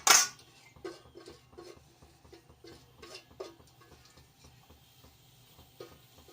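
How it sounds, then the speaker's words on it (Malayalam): A spoon works chopped salted mango through pickle masala in a pan, sounding as a sharp clank at the start and then a steady run of soft, rhythmic scrapes and taps against the metal. "ഇനി ഈ ചേരുവയിലേക്ക് നമ്മൾ അരിഞ്ഞു വെച്ചിരിക്കുന്ന മാങ്ങ ഇടണം, ഇട്ട് ഇളക്കുക."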